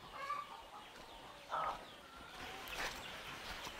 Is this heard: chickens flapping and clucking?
yes